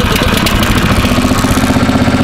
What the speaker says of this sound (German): So, jetzt fahren wir hier den Dumper mal nach unten.